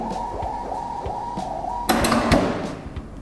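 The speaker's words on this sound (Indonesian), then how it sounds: "Jadi ketika printer ini print stroke otomatis lacinya akan kebuka gitu." A receipt printer whirs with a steady mechanical hum, then its linked automatic cash drawer clunks open with a sharp bang and a brief rattle.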